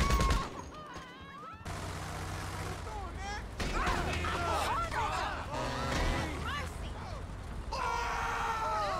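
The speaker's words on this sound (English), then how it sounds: "I have got to try the MG weapon out" A machine gun (MG weapon) in GTA 5 Online rattles in bursts amid crashes, metallic clatter and game effects, with a voice talking over parts of it.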